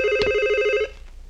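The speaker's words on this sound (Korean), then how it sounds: "전화받지 마. 회의 중이라고." An office telephone in a 1988 setting rings with one loud, bright electronic trill lasting under a second, then stops, leaving quiet room tone.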